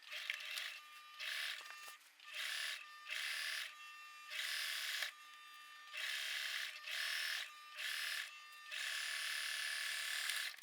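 A sewing machine stitches a shirt sleeve seam about 1 cm wide in repeated close, steady bursts of rapid whirring, broken by short pauses as the fabric is adjusted.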